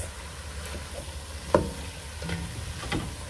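Red beans and fried sausage are stirred together in a cooking pot, giving soft scraping and clinking spoon strokes over a faint sizzle, with one sharper knock partway through.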